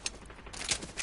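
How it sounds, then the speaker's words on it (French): Gunfire rattles in a PC shooter game, a few quick distant bursts of shots, faint and muffled against background noise. "Ça tire encore hein"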